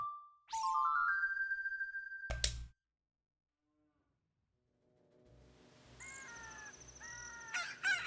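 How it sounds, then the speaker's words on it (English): Rooster crowing in The Legend of Zelda: Ocarina of Time, a single loud, stylized cock-a-doodle-doo at the start, then a pause followed by softer game chimes and ambient tones. "There's the rooster."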